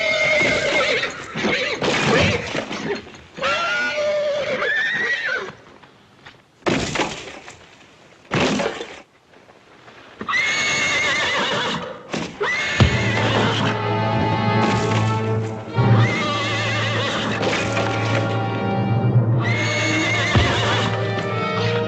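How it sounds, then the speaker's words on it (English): Horses neighing loudly in repeated shrill whinnies, mixed with clip-clopping hooves and a crash of breaking glass, a chaotic close scene without speech. "Watch out for that other horse."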